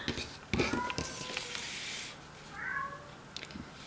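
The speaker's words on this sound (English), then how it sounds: "And Kitty's in the background" A house cat meows in the background of a craft room, a couple of short meows heard among faint thumps and handling noises.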